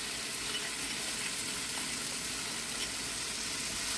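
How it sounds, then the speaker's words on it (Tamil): Roasted wheat rava tipped into a hot pan hisses with a steady, dense sizzle that stays loud and even throughout, close by and alone. "வறுத்து வச்ச கோதுமை ரவாவை போட்டுடலாம்."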